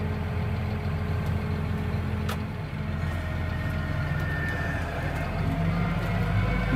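A heavy tractor with deep-lugged tyres rumbles steadily while compacting corn silage, a low continuous engine drone that grows louder toward the end.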